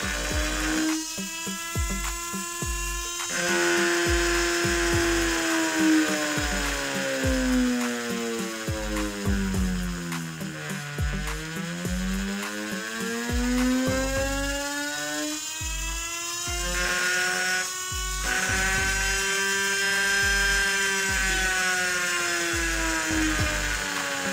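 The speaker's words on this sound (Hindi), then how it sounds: "आप सभी ने देखा कि हमारी एसी काफी अच्छे से काम कर रही है" A brushless DC motor driven by a homemade ESC controller whines steadily. Its high electronic tone sags to a low point midway, then climbs again, over a faint rapid ticking, with no talking.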